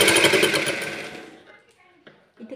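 A sewing machine stitches a folded inner edge of a four-tuck blouse in one loud, fast burst of about a second that quickly dies away, followed by faint talk.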